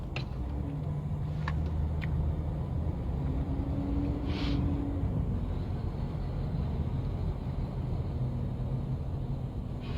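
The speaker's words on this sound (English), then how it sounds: "Y'all, I hate traffic. I fucking hate traffic." Steady broadband road traffic rumble, cars passing continuously at moderate distance in morning congestion, with no talk over it.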